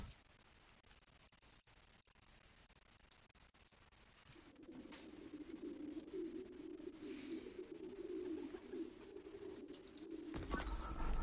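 Pigeons coo in a park, a soft, throaty warbling that swells into a steady murmur from a group after a few quiet seconds, heard fairly close in an otherwise hushed setting.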